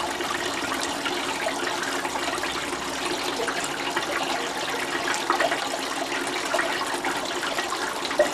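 Water runs steadily through a sluice washing wet black beach sand, a close, continuous gushing and splashing hiss with small gurgles and no talk over it.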